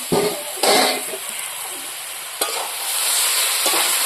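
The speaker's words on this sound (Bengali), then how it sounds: "সবজিটাকে আমি ভালো করে দিয়ে কষিয়ে নিই" Mixed vegetables, including beans, sauté in a pan with a steady bright sizzle, while a spatula stirs in several sharp scraping bursts; loud and close with no talking.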